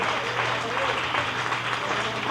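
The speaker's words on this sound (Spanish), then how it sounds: "Dale un aplauso a Él, porque Él se merece la gloria y el honor" A church congregation claps steadily and densely throughout, with a voice speaking over the applause.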